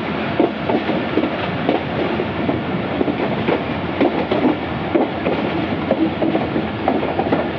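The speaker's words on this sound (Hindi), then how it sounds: "तो ट्रेन ने स्पीड भी डाउन कर ली है।" A four-coach Karachi Circular Railway train slows down, heard from onboard as a steady rumbling ride with irregular wheel knocks and rattles over the rails.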